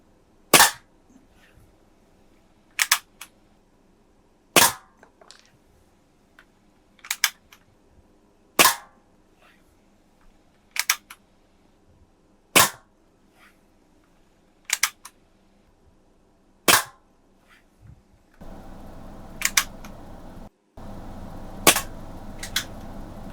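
A Daisy 853 air rifle fires .177 pellets at a can, giving about a dozen sharp, evenly spaced cracks roughly two seconds apart, loud and close, with a faint hiss of background noise rising near the end.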